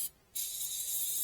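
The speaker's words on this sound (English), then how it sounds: "Spraying a little" Starting fluid sprayed from an aerosol can into an Allis Chalmers engine on a LeRoi 125 CFM air compressor: a brief hiss, a short gap, then a steady close hissing spray.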